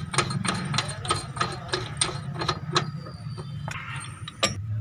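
Metallic clanks and rhythmic taps ring out at close range while a rear brake drum and its 36 mm axle nut are fitted on a Renault Duster, a steady series of sharp hits with a low hum underneath.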